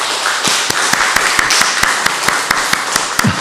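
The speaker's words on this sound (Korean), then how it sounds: "우리 인사할 때 박수로 큰 환영을 표해 주시기 바랍니다" A church congregation at a Korean Presbyterian Sunday service applauds in welcome, a steady crowd clapping with sharp, evenly spaced claps standing out in a loose rhythm, fairly close and alone without talk.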